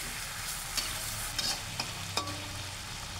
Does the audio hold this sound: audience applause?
no